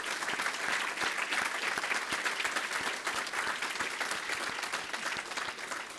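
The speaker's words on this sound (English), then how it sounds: "let's have another round of applause for our four Hall of Famers" A crowd at a Syracuse hockey Hall of Fame induction ceremony claps steadily for the whole stretch, dense, sustained applause heard from within the audience without any voice rising above it.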